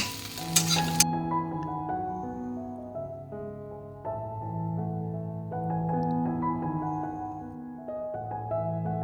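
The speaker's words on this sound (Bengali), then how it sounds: "একটা ডিম ঝুড়ি ভাজার স্টাইলে করে নিলাম" Steady sizzling of eggs frying in a pan, with a stirring scrape early on and continuous crackle throughout.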